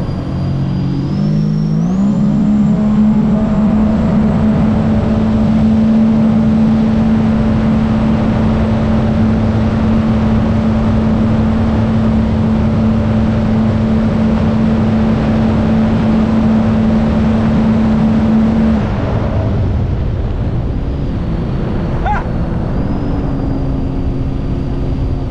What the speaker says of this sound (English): Ready, warm up the engine.